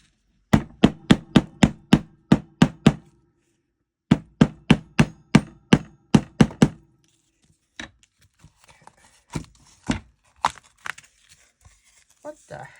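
Rapid bursts of sharp taps from a small hammer driving staples, about ten quick strikes in each of two runs, followed by scattered lighter knocks and rustling.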